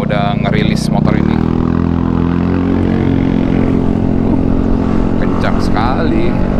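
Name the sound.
Yamaha Aerox Alpha Turbo motorcycle being ridden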